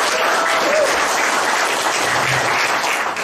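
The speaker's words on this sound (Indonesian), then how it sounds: "Boleh tepuk tangan." Steady audience applause at an Indonesian eco-farming seminar, a dense even wash of clapping that holds at constant loudness throughout with no talk over it.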